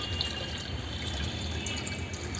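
Water runs steadily into a container, a continuous even rushing hiss with no breaks and no voices, moderately quiet throughout.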